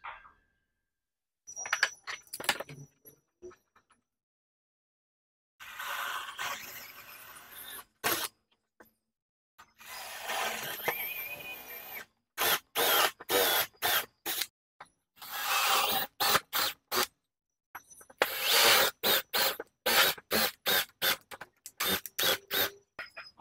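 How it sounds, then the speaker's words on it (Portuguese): Threaded inserts are driven into four holes in wood, producing bursts of close, sharp ratcheting clicks separated by short silences, repeating in quick rhythmic runs. "nós vamos colocar é, bucha americana aqui de baixo para cima, nestes quatro furos."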